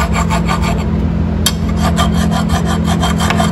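A hand file rasps steadily over the burred metal spring shaft of a garage door, close and loud in continuous back-and-forth strokes with no talking.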